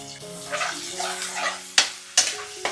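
Onion and a mild green chili drop into a pan with garlic for a Marathi prawn curry, giving a soft sizzle with a few sharp clattering stirs near the end and no talking.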